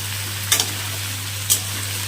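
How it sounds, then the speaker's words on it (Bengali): Onions and tomato frying lightly in a pan, a soft continuous sizzle under a steady low hum, with two brief sharp scrapes of stirring about a second apart. "দেবো পেঁয়াজ, এখন একটু হালকা হালকা ভেজে নেব"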